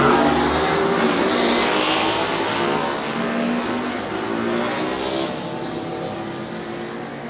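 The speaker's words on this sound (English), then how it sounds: "the classic machines make their way around on the warm-up lap" Classic road racing motorcycles on a warm-up lap at the Cookstown 100 road races roar past in a loud, continuous engine drone, with rising and falling revs as the machines pass close by.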